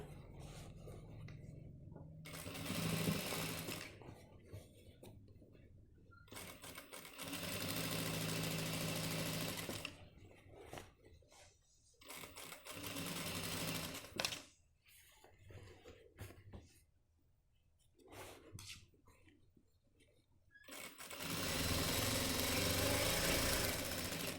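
A sewing machine stitches a trouser waistband in bursts of steady mechanical whirring, each several seconds long, separated by quiet pauses, close and loud.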